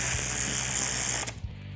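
A ratchet wrench clicks rapidly and steadily while tightening fuel pump bolts on a 440 Magnum engine, close and loud, the clicking breaking off near the end with a couple of looser knocks.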